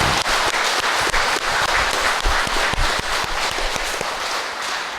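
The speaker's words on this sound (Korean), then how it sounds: "저를 위해서 힘찬 감사의 박수." Dense, sustained applause from an audience at a Catholic marriage mentoring class, loud and continuous with many overlapping claps and no talk.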